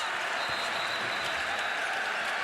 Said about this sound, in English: Listen to this crowd at Stegman Coliseum